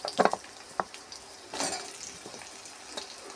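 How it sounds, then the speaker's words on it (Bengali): Pumpkin and potato pieces fry together in a pan, a low steady sizzle punctuated by a few clattering stirs and scrapes near the start and midway. "কুমড়ো আর আলু আমি একসঙ্গে ভেজে নেব।"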